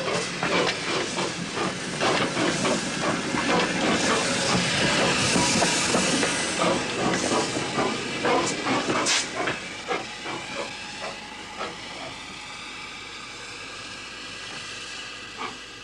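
A replica Hackworth steam locomotive sends out steady, distinct steam-blast chuffs with hiss, a rhythmic exhaust beat that is loud at first and then gradually eases and fades, with no talk.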